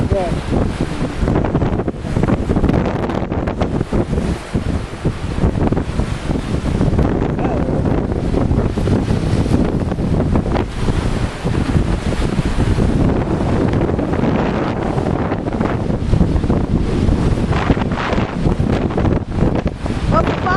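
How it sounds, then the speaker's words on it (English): Strong wind buffets the microphone with loud, constant roar over crashing surf at Sebastian Inlet, Florida, on a windy day with riptide, continuous and close throughout. "riptide, windy kind of day."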